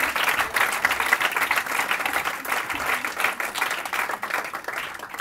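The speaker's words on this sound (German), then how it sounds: "klatscht ihn mit einem frenetischen Applaus willkommen" An audience at a live comedy and reading night show applauds a performer's entrance with loud, sustained, dense clapping that holds steady from start to finish without talk.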